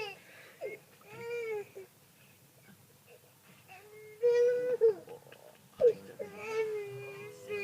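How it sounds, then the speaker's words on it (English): A small child's crying comes across a wildlife waterhole: thin, wavering wails in several separate bursts, moderately loud against a quiet, low background hum. "I can hear a small child crying."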